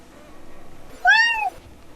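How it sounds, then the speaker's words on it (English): A cat gives a single clear, rising-then-falling meow of about half a second, close and distinct over a faint quiet background. "You can talk to your cat?"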